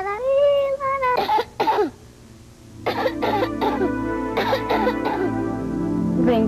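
A child's cough in a Vick cough syrup commercial from 1990s Brazilian TV, a few harsh bursts over soft music, with a voice speaking afterward.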